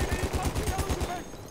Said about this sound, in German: Da schießen sie zurück.